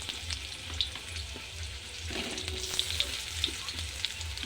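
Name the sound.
potatoes frying in hot oil with black cumin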